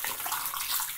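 A whole pot of boiling water is poured into a clogged sink drain, producing a steady, close splashing rush that stays even throughout the brief moment.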